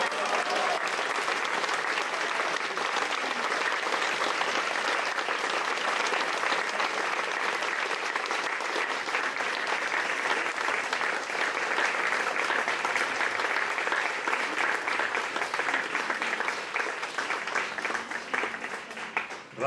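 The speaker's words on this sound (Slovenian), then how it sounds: "Vaš aplavz že sam po sebi pove." Sustained applause from a large crowd at an outdoor protest in front of a ministry building, loud and dense, continuing steadily throughout.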